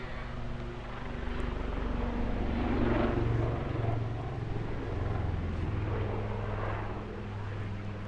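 Aircraft flying aerobatic maneuvers at the English Riviera Airshow, a steady distant engine drone that swells and fades slightly as it moves, with faint background noise throughout.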